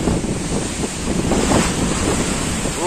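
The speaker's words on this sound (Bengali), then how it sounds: "পুরো সি বিচের উপর দিকে উঠে আসছে, মানে আজকে জলোচ্ছ্বাস হচ্ছে" Rough sea waves surge up onto a beach during an afternoon storm surge, a continuous loud wash of churning surf mixed with heavy wind buffeting the microphone.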